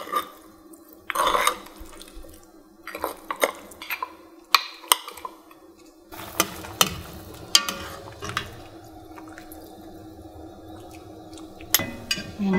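A spoon stirs a small bowl of dipping sauce of hot pepper flakes, green onion, soy sauce and sesame oil for Korean beef short rib soup, giving close, scattered clinks and light scraping against the dish with no voices.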